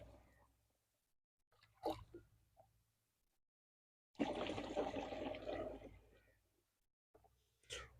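Water gushes into a pesticide sprayer tank being half-filled for a maize field insecticide spray, a steady rushing pour lasting a few seconds between quieter handling noises and brief knocks.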